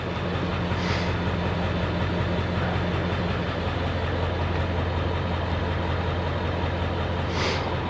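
Hotshot truck engine idling with a steady low rumble up close, continuous and even throughout, with no talk over it.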